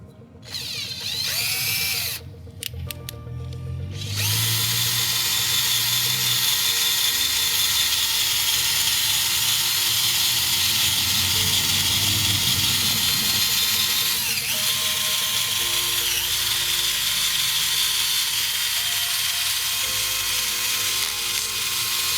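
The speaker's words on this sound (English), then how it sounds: "To go one step further, I will try to use a drill." A power drill fitted with a polishing attachment works on the engine case of a Royal Enfield Classic 350, giving a steady, loud high whine that runs almost continuously after a brief start.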